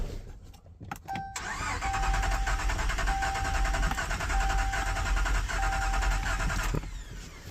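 A 2018 Whipple-supercharged Hemi engine cranks over steadily during a cylinder compression test, a loud, even starter churn lasting about five seconds before stopping, with clicks at the start.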